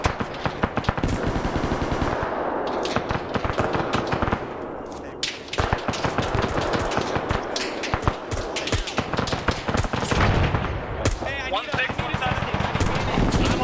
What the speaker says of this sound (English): I think it's this machine gunner just constantly tearing things apart right there